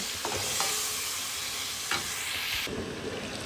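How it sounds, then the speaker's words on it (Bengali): Bottle gourd and prawns cooking in a pan, a steady close sizzle with a few stirring scrapes and clinks, continuous and moderately loud with no talk. "দেখেন আমার লাউটা রান্না হচ্ছে"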